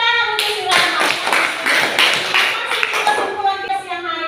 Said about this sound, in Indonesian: tepuk tangan untuk si Rama.